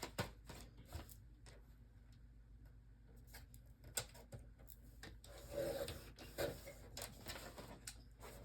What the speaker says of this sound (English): So I'm going to put that in my cutter and fix that.